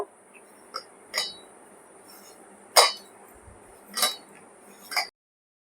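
Pumpkin fritter batter mixed in a bowl, with a spoon striking the bowl in several sharp clinks spaced irregularly over a faint background hiss, then silence.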